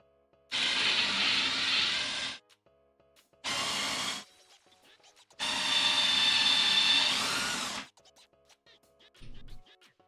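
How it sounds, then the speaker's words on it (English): Power drill pre-drilling holes and driving screws into bowed, gapping wood boards while building a CRT stand, three loud close bursts of whirring, the middle one short, separated by pauses. "we're gonna go ahead and just start setting, pre-drilling and setting a few screws"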